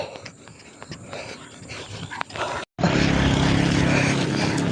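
A dog pants rapidly and steadily, close by during a bike ride, over rustling movement, with a brief dropout before the breathing continues louder.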